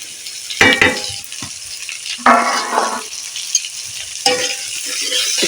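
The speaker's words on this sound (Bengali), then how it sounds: "হলুদ আর আলু একসাথে দিয়ে দিয়েছি একটু নাড়াচাড়া করে নেবো আলুগুলো আলুটা অল্প নাড়াচাড়া করে নিয়েছি এবার পেঁয়াজ দিয়ে দেবো" Potatoes and turmeric sizzle loudly in a hot pan while being stirred, with onion about to go in. A steady close frying hiss is broken by several bursts of scraping and stirring. No one speaks.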